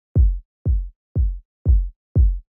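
A clean electronic kick drum with no saturation thumps five times in even quarter notes, each hit a short deep boom with a quick decay and silence between, loud and dry.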